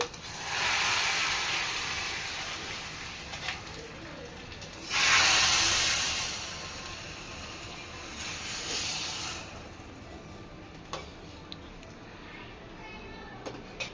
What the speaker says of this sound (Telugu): వేసేస్తున్నాం కాలింపు బాగా ఎర్రగా వేగింది